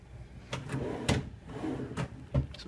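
Wooden drawers in a hotel suite are pulled open and pushed shut, giving several close knocks and sliding thumps spaced about half a second to a second apart.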